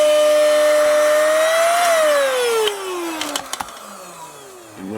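A DSPIAE hand-held cordless vacuum whirs loudly and steadily up close, its motor whine sliding down in pitch before settling into a quieter hum, with a few sharp clicks near the end.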